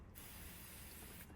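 A Würth spray gun blasts brake cleaner onto the engine of a 1993 VW Golf VR6 during an oil change, producing one steady, hissing spray burst of just over a second that starts and stops abruptly, with no talking.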